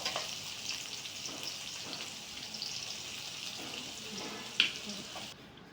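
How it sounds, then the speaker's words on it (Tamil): A handful of sliced onions fries in hot oil with a steady, close sizzle that runs nearly throughout, broken by a brief sharp clink near the end before the sound drops away. "இந்த ஆயிலே ஆனியன் நல்லா ஃப்ரை ஆகணும்"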